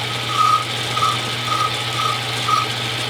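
A Hardinge turret lathe cuts a small chamfer with a steady mechanical hum and a faint, regular ticking that repeats about every half second, with no voices.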